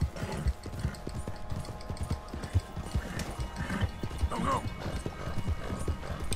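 Rapid, rhythmic hoofbeats of a galloping horse, loud and close, with a whinny partway through and voices talking over it, in the video game Red Dead Redemption 2.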